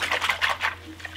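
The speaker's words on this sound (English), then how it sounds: "Okay, I'm gonna give it a quick whisk here." Cream of mushroom soup mix whisked quickly in a liquid, a short run of close, soft swishing and sloshing strokes that fades toward the end, with no talking.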